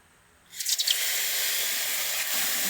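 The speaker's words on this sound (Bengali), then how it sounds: "সুজিটা অল্প ভেজে নিয়েছি, এবার এর মধ্যে অল্প অল্প করে জল দেবো" Water splashes onto lightly roasted semolina in a hot pan, setting off a sudden loud hiss that settles into a steady, close steaming sizzle.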